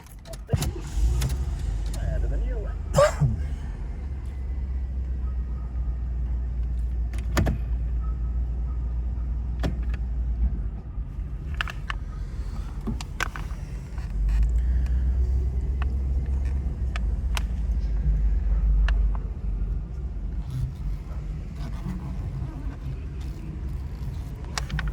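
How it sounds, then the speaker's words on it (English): A 1988 Chevrolet Caprice Estate wagon being driven, a steady low engine and road rumble heard from inside the car, swelling at times as it accelerates, with occasional faint clicks and no clear talk. "I'm gonna do a quick driving video"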